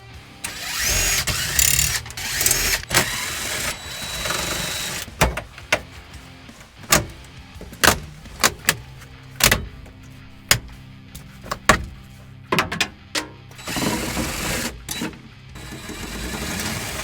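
Dashboard screws being removed with a ratchet while building a racecar: rapid clicking ratchet runs and sharp metallic ticks and knocks, close up, with no one talking.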